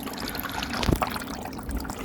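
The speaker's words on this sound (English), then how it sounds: "you can see the PP now is flowing through the filter and back into that bowl" Pond water pumped through a filter trickles and splashes steadily, with a brief louder gush near the middle, close and continuous.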